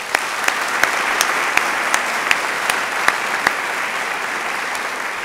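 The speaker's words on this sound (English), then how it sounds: "Can we get a round of applause for these?" Faculty and staff at an opening meeting give a sustained round of applause, an even wash of many hands clapping with a few sharp nearby claps standing out, continuing throughout with no talk.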